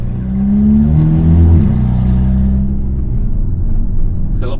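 Volkswagen Eos 2.0 TSI with a rebuilt turbo, the engine revving up into a loud, close rising drone that holds and then settles back to a steady rumble.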